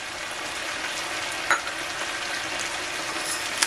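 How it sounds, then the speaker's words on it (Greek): Pork with onion and garlic sautéing in a pan, a steady close sizzle and crackle with a brief stirring clack partway through, with no talking. "Περιμένουμε να φύγει όλη η υγρασία για να σοταριστεί το κρεμμύδι και το σκόρδο"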